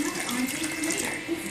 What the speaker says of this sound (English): pour your 8 cups of water around the edges